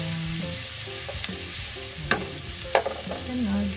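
Onion and garlic sauté in a hot pan with a steady close sizzle, broken by a few sharp clicks and scrapes as a utensil stirs them.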